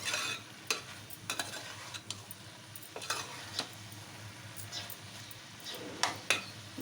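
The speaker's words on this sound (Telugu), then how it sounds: "కారము వేసిన మసాలా అంతా ముక్కలకు పట్టే విధంగా కలుపుకోవాలి." Spiced gourd curry frying in oil while being stirred, a steady soft sizzle broken by repeated scraping strokes of the spoon against the pan, close and fairly quiet.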